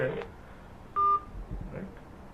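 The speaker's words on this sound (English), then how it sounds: "As you can probably hear the phone ringing on the other end" A mobile phone call to another party gives a single short electronic tone, clear but brief, heard once in a quiet pause amid faint background noise.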